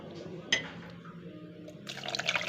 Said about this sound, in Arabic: وهنزل عليهم بالميه الدافيه